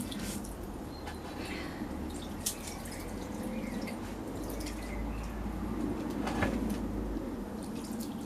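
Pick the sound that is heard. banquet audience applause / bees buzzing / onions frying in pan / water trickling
water trickling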